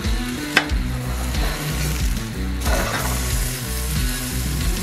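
Boerewors sausages sizzle on a Weber Jumbo Joe charcoal grill, a steady close crackle broken by a sharp click as they are flipped.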